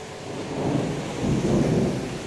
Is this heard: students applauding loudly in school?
no